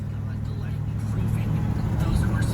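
An Oldsmobile Toronado cruising in second gear, its steady engine and road rumble droning close from inside the cabin, with someone talking over it.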